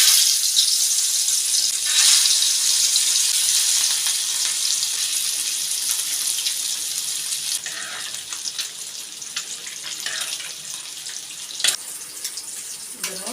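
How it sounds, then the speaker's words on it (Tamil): Fish frying in hot oil while a meat and fish curry is cooked at home, giving a steady, fairly loud sizzle that runs throughout, with a brief clatter near the end. "எண்ணெய் சூடாயிட்டு மீன் ஒருத்தர் எடுத்துக்கலாம்"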